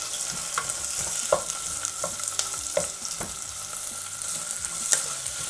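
Long-sliced onions sautéing in oil for vegetable pulao sizzle steadily, with repeated scraping clinks of a spoon stirring the pan.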